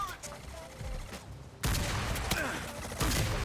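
Shotgun fire in the Battleship video game on PS3, heavy blasts with loud bursts at intervals over a continuous roar of combat.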